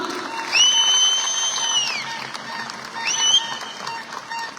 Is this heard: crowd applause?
yes